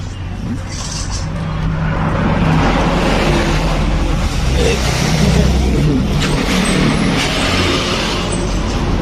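A Honda Vario 150 scooter idling with a noisy CVT area, a loud, close, steady mechanical drone and whir that holds for the whole stretch.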